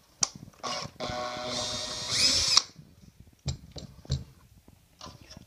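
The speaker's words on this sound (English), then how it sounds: "drill two holes on the side." A power drill bores into a mouse trap in one sustained whining burst lasting about a second and a half, rising in pitch near the end, surrounded by handling clicks and knocks.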